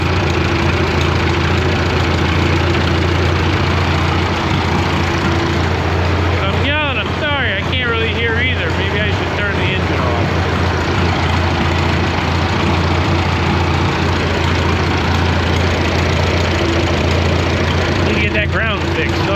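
An old crawler tractor engine idles steadily at close range with a strong low drone and pulsing rhythm, with a brief stretch of voices talking over it near the middle and again at the end.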